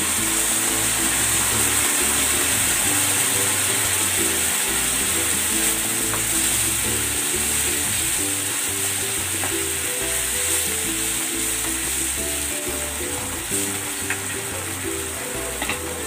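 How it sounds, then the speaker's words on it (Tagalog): Chicken sizzles and bubbles in a pan as coconut milk and lemongrass are added, a loud, continuous frying hiss with intermittent stirring scrapes and thuds throughout. "Ilagay na rin natin itong tanglad at ibubuhos ko na itong gata para maluto yung ating chicken"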